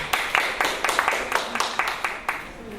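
Brief clapping from a single audience member at a senior center talk, a dozen or so light, evenly spaced claps close by and unaccompanied by other applause.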